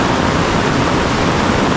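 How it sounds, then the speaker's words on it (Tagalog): Heavy rain pours down in a steady, dense roar, loud and continuous without a break, close by, with no voices over it. "Tapos ngayon bumuhos naman yung malakas na ulan."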